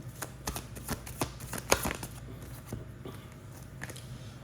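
Tarot cards are handled and shuffled close by in a quiet room, a string of soft riffling flicks and taps with a sharper snap midway, then lighter handling noises.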